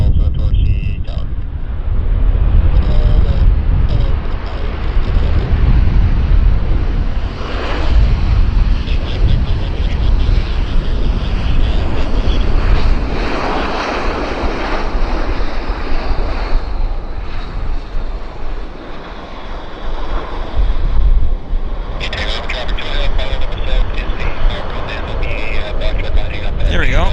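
A fixed-wing airliner rolls along a runway at Vancouver Airport, its jet engines a steady, loud roar that swells and fades slightly over the whole stretch, with a voice talking over it.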